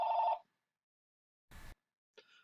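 Telephone ringing in short electronic bursts, a strong ring at the start followed by quieter fragments after a silent pause, close and alone with no talk.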